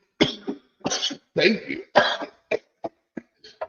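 A woman's harsh, wet coughing fit during a podcast recording, several loud close coughs in a row, then smaller short hacks trailing off, with a brief spoken phrase in between.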